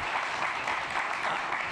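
Steady, dense applause from a conference audience, a continuous close wash of clapping with no break across the short stretch.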